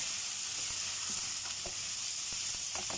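Ginger fries in hot oil with a constant bright sizzle, broken by small pops and spatters all through.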